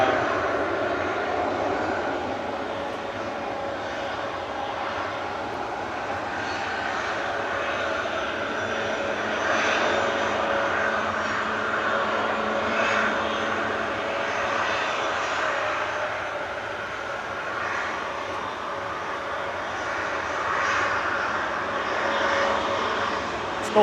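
An EasyJet airliner taxiing at Manchester Airport, a steady engine drone and whine held at moderate distance for the whole stretch, with a faint hiss and no clear speech.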